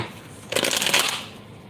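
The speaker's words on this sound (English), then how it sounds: "I'm going to shuffle 6 times." Tarot cards being shuffled by hand, a single quick riffling burst of card edges lasting under a second, close and fairly loud against a quiet room.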